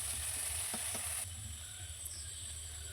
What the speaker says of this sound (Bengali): ওই তেলেই আমি রান্না করছি সাথে জিরে তেজপাতা লঙ্কার ফোড়ন দিয়ে দিলাম